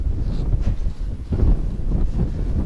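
Gusty cold wind at a seaside house buffets the microphone in low rumbling bursts, rising and falling throughout with no speech.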